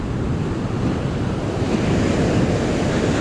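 Typhoon Pepito drives sea waves onto a boulevard as a constant roaring wash of surf, mixed with heavy wind buffeting the microphone, loud and unbroken throughout.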